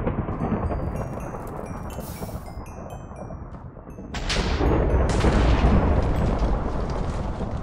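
Lightning strikes and thunder in the video game Minecraft, heard as continuous heavy rumbling and crackling that swells louder midway, with faint high tones above and no talk.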